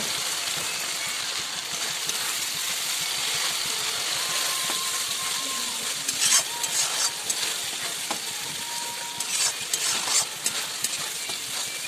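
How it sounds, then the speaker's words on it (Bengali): Jackfruit and potatoes sauté with spices in a pan, giving a steady close sizzle with occasional clinks and scrapes of stirring, no talk. "এবার ইঁচড় আলুটা দিয়ে দিচ্ছি, ইঁচড় আলুটা দিয়ে ভালো করে কষিয়ে নেব, নেড়ে সুন্দর করে।"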